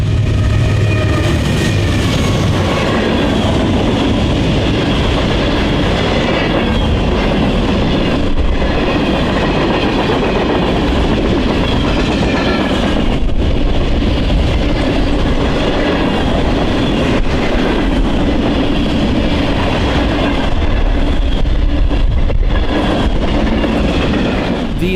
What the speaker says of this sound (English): we caught westbound manifest train 11K